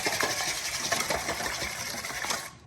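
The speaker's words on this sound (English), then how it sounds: "Now we'll just take a whisk, beat these up." Eggs being beaten with a whisk in a big mixing bowl, a quick run of rapid, rhythmic metallic clinks and scrapes against the bowl, close and steady.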